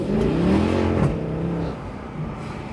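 A Mercedes C63 AMG 507 coupe's V8 engine pulls hard under acceleration in second gear, a loud, close rising roar with a brief shift-like dip, steady and sustained without talk.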